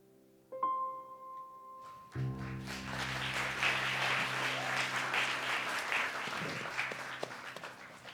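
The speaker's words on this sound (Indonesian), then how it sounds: "Tadi aku mau minta tepuk tangan tapi udah tepuk tangan." An audience claps after a performance. The dense applause starts after a brief low tone and keeps up steadily and moderately, without voices.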